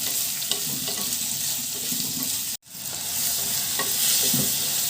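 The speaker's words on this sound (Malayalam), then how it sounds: "ഒരു 3 സവാള ഇതിലിട്ട് കൊടുക്കാം. വഴറ്റുക." Three onions sauté in a hot pan, a steady, bright sizzle with occasional stirring scrapes and a brief silent cut midway before the frying resumes.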